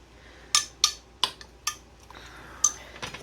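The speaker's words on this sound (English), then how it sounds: "Just going to mix that all in." Red beans and rice ingredients stirred together in a pot, with a spoon striking the metal in a handful of sharp, separate clinks and taps, close and fairly quiet, no one speaking.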